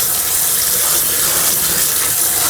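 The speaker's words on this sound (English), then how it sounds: "I clean quickly the kidney with the cold water." Cold tap water runs steadily over a kidney being rinsed, a continuous close gushing splash into a sink with no pauses or talk.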